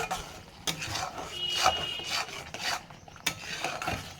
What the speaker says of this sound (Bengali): এখানে একটু জল দিয়ে আমি মশলাটাকে নাড়ছি।